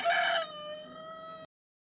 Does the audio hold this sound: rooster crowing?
yes